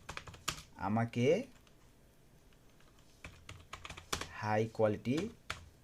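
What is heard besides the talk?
typing on a computer keyboard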